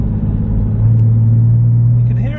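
Porsche 996 with a valved exhaust on loud mode, a close, steady deep droning rumble from the engine as it cruises under light throttle.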